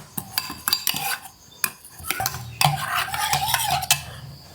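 Boiled egg salad dressing with lime juice is stirred in a bowl, with a spoon scraping and clinking against the dish in irregular, close taps and swirls, no talking.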